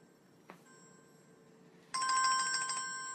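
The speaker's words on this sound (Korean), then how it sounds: "이럴 때 제발 전화 좀 걸지 말아 주십시오." A phone ringtone interrupts a quiet indoor recording, starting abruptly after a small knock and continuing as a steady, fairly loud electronic ring.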